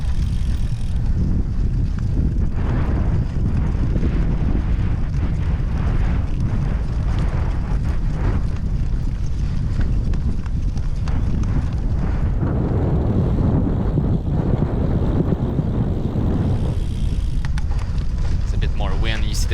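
Strong wind buffets the microphone at an outdoor cyclocross race, a loud constant rumbling roar with gusty swells, as a person talks underneath.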